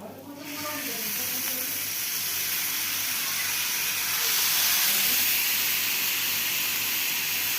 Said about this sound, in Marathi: आता आपण त्याच्यामध्ये हे गिलकं किसून घेतलेलं ते टाकणार आहोत